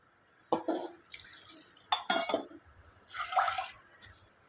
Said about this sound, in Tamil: இப்போ பருப்பை சேர்த்துக்கலாம்